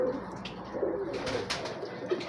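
Pigeon held in a hand, soft low cooing close by over a faint background murmur, brief and repeated in a gentle rhythm.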